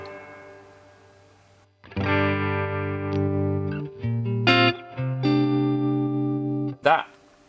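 Electric guitar played through a Fender Tone Master Pro modeling a Deluxe Reverb amp with built-in reverb, sustained chords and shifting notes ringing loud and close for several seconds after a quiet start, ending in a brief strum.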